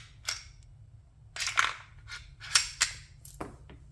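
A handgun is cleared and made safe, its magazine pulled out, giving a handful of sharp, close metallic clicks and snaps spaced unevenly over a few seconds with quiet gaps between, no voices.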